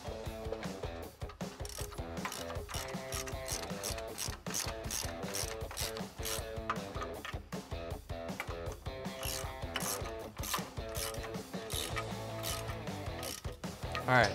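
A ratchet turns a bolt into the lower suspension mount of a 2015-2019 Ford F150 while a Teraflex Falcon Sport tow/haul leveling system is installed, giving a close, steady run of rapid clicks with brief pauses.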